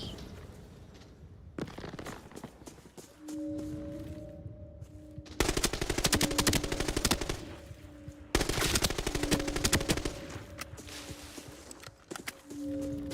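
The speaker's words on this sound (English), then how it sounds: "I don't know if I'm shooting into the right team right now" Automatic gunfire in the video game ABI, played solo, with sporadic shots early on, then two long, loud, rapid bursts of sustained fire and a final short burst, with no talking.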